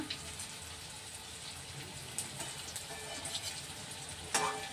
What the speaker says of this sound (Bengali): ভালো করে আমি এটাকে ভেজে নিব।